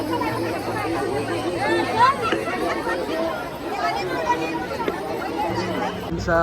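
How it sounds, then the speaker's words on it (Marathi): A dense crowd chatters during the Palkhi procession in Alandi, a steady hubbub of many overlapping voices close by and all around, with no single speaker standing out. "गर्दी बघू शकता तुम्ही, गर्दी किती आहे"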